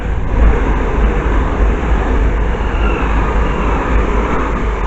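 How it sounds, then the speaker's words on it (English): A pair of Class 377 electric trains rumbles steadily past Bushey station, a loud, close, continuous roar of wheels and motors. "The next train pass by is pair of 7s."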